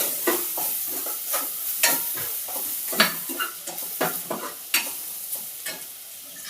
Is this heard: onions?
yes